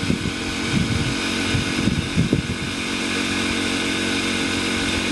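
A Kipor IG1000P inverter generator runs at full throttle in its loudest, non-smart-throttle mode, a steady close-up engine drone with a dense hum that holds constant throughout.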